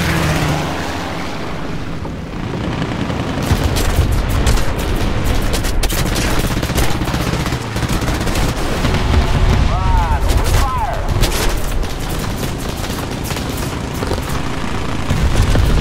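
Aircraft guns firing in War Thunder, dense rapid bursts of gunfire and booms over a constant engine drone, loud and nearly continuous for most of the stretch.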